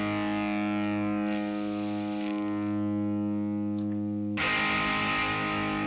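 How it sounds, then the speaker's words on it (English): Sustained electric guitar chords on the bridge pickup through an overdrive pedal into a clean amp, with thick, gritty distortion ringing out loud and full, and a fresh strummed chord hitting near the end. "So let's throw this drive on into this clean amp."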